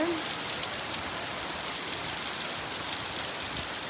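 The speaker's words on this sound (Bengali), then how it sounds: "আজকে থেকে একদম দ্বারা বৃষ্টি শুরু হয়েছে" Steady rain falling at the start of a heavy downpour, a uniform wash of patter close by, constant throughout without voices.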